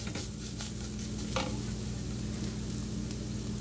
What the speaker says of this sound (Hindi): अब इनको हम अच्छी तरह से मसालों को इनके साथ ही भून लेंगे।